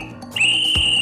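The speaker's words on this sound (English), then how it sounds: "With this dog whistle and this megaphone, I can round up all the dogs in town!" A cartoon-style dog whistle gives one loud, steady high-pitched tone lasting most of a second, started by a short breathy onset and joined by a low thump near the end.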